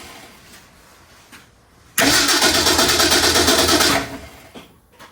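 A 1965 Ford Mustang garage find starts up after a couple of faint cranks: the engine catches and runs loud and close with a fast, even chatter for about two seconds, then dies away into quiet.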